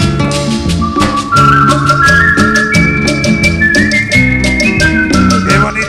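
A person whistles a cumbia melody in bright, sustained phrases over a loud cumbia band with steady percussion and bass.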